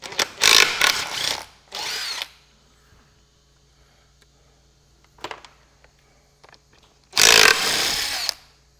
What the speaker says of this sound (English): These little 3/8 drive Makitas, DTW 2530. Boy, they're a ripper little thing.